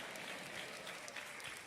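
Congregation applause at a church service, a dense, even wash of many hands clapping at moderate distance with no gaps over a short stretch.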